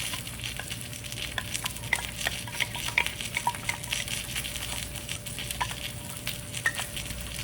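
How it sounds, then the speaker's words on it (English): A spoon stirring mayonnaise and olive oil in a bigger bowl, steady wet scraping and soft clicks repeating continuously over a faint background hum, close and fairly loud, with no talking. "I'm gonna grab my spoon here, and we're just gonna mix it in this bigger bowl"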